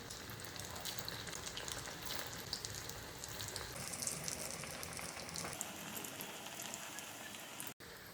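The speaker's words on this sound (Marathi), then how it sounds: "आणि आता अगदी खमंग तळून घेऊ आपण त्या।" Cabbage vadi frying in hot oil over a low flame, a quiet, even crackling sizzle that holds steady throughout and cuts off sharply near the end.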